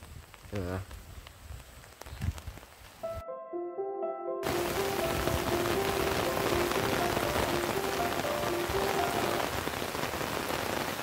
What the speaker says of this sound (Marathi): पाऊस भरला तर जोरदार पडता